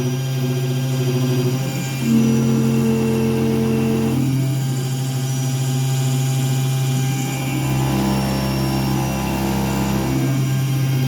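An MR-1 mill spindle runs at 8,000 RPM on a steel part, shaking the machine: a loud, steady droning hum with a tonal whine whose pitch shifts slightly partway through, with no talking.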